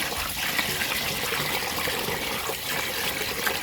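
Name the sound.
water running while washing brown rice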